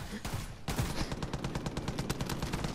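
Rapid gunfire strafes the area in Far Cry 5, a dense, loud run of repeated shots after a brief burst and a short pause.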